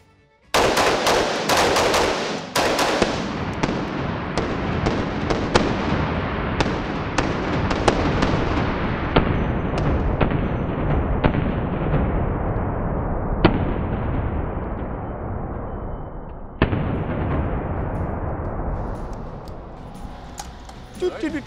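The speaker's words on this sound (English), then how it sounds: "Let's put a few rounds through each and just see what we think about them." A Brownells BRN-180 rifle fires a rapid burst at first, then a steady run of sharp, loud single shots with echoing tails, spaced unevenly over about twenty seconds.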